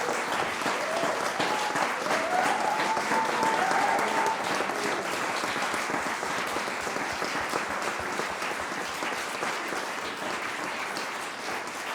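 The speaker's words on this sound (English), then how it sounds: "So she merits a real applause." Conference audience at the ECRA closing session giving a sustained round of applause, a dense wash of many hands clapping steadily throughout and easing slightly toward the end.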